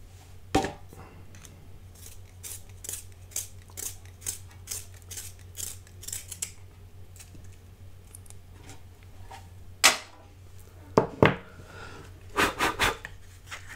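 Quick scraping, crackling bursts of a colored pencil being sharpened, starting and stopping in short spurts near the microphone, with faint clicks between.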